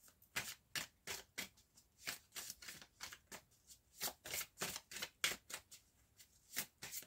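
A deck of fairy oracle cards is shuffled in a steady run of crisp riffling bursts, roughly two per second, close and fairly loud, with no talking.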